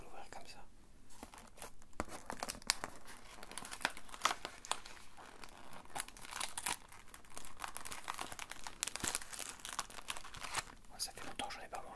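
A Delichoc chocolate biscuit package is pulled open, its plastic wrapper crinkling and crackling continuously at close range while people talk quietly throughout.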